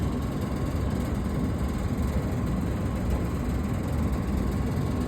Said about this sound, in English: That noise is some type of fan, but it makes it sound like we're moving.